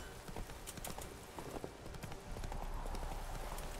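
Roach the horse gallops in The Witcher 3 video game, a quick run of hoofbeats clattering steadily and close against a busy game soundscape.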